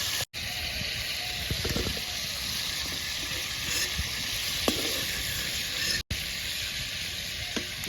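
Dried giant freshwater prawns sizzle and crackle steadily in a hot pan as they are turned over, with occasional sharp pops and light scraping under a continuous hiss.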